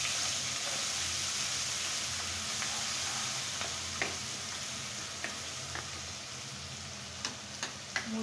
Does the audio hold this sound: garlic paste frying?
yes